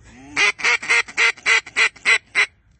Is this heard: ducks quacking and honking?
yes